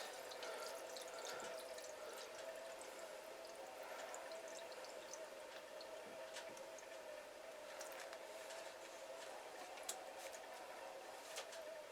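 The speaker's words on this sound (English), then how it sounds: "So you pour water on it." Water pours steadily onto an item set to pre-soak, a faint, continuous trickle with a few soft drips and no talk.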